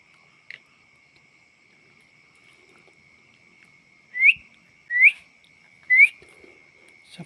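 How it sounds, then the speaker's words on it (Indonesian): A thin steady whistled tone held throughout, with three short upward-sliding whistles chirping over it near the end, quiet and close, in an abandoned villa. "siapa tahu kalau misalkan saya bersiul, siapa tahu ada yang mengikuti siulan saya"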